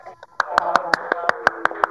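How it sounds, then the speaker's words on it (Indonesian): Committee members clap in a steady rhythm of about a dozen sharp claps, close and fairly loud, after a poetry reading at a student orientation event. "Tepuk tangan panitia."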